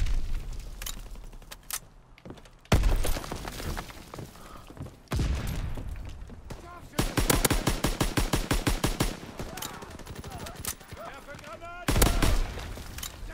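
Gunfire in Call of Duty WWII multiplayer: heavy booming single shots followed by a long rapid automatic burst and more loud blasts, close and loud, with a voice talking in between.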